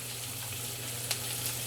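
Onions stir-fry in oil over high heat on an SK Magic induction cooktop, giving a steady, faint sizzle with a couple of small clinks from stirring and no voices.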